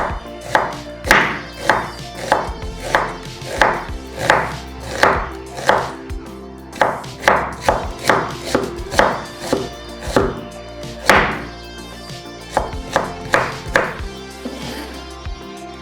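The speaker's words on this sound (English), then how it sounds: "So I just cut it like this." A knife chops an onion on a cutting board in a steady series of sharp, close thunks, around twenty strokes with short pauses, no talking over them.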